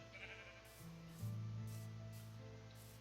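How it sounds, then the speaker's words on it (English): A sheep in Minecraft gives a single drawn-out, wavering bleat over a faint background hum, fairly close and quiet, with no talking. "I hear more sheep."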